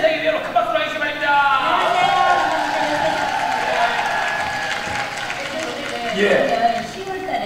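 An audience applauds a choir of market women, a sustained wash of clapping and crowd noise with a voice speaking over it, swelling again toward the end.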